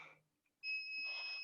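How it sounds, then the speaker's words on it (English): A workout interval timer sounds a single sustained electronic beep, clear and steady after a brief quiet moment. "All right, here's our timer."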